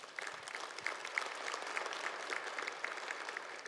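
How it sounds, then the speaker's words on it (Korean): An audience claps at a regional development forum in Korea, a steady patter of many hands, moderately distant and fairly soft, continuing evenly with no speech on top. "다시 한번 큰 박수 부탁드립니다."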